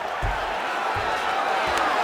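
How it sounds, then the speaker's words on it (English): Arena crowd cheering in EA Sports UFC 5 during a grappling exchange between Yutaka Saito and Sodiq Yusuff, a steady roar of the audience with a few dull thuds underneath, and a voice heard faintly. "no surprise, the crowd pops in appreciation"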